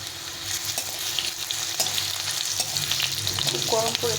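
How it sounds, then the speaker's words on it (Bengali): Potatoes fry lightly in a pan while being stirred, giving a steady close sizzle with scraping stir strokes throughout and no talk. "আলুটাকে একটু হালকা করে ভেজে নিতে হবে প্রথমে অবস্থায়"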